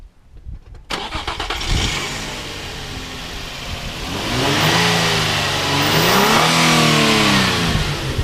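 A Nissan 350Z with standard intake and exhaust starts up, then settles into a steady idle before revving up and down in several rising and falling swells, loud and close.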